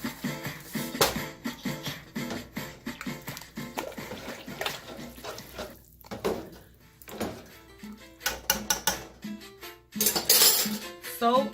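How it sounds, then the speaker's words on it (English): Hominy going into a pot of green pozole, then the lid going on, with a series of sharp metallic clinks and clatters of utensils against cookware, close and loud, some louder bursts near the end. "So I am going to go ahead and add the hominy now and cover it up and let it boil"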